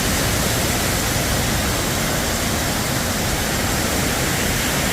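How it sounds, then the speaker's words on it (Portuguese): A waterfall in a Croatian national park cascades as a constant, dense rushing roar, steady and close, with no voices. "Cheio de cascata, um cachoeiro"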